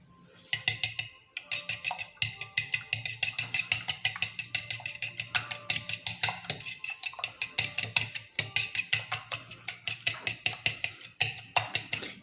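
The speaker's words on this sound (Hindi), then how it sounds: "सबसे पहले तो हम इन एग्स को अच्छे से बीट कर लेते हैं।" Eggs beaten with brown sugar in a bowl: a steady run of quick, sharp whisk taps and clicks against the bowl's side, close and fairly loud, continuing evenly for several seconds with no talking.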